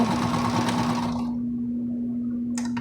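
A sewing machine stitching fabric face masks, a steady close motor whir that stops after about a second, followed by quiet hum.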